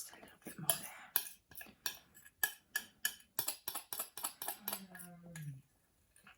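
A spoon stirs cream cheese and whisked double cream in a bowl, giving a quiet run of rhythmic clinks and scrapes against the side, close and soft, ending in a brief smoother swirl.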